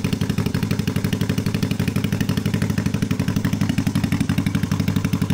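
A restomod Honda CB450 motorcycle running through short mufflers, a loud, close, throaty engine with a rapid even pulse that holds steady throughout.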